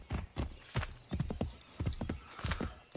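Horse hooves clip-clop in a steady rhythmic gait in the Assassin's Creed 3 video game, sharp repeated thuds close and loud with no talking over them.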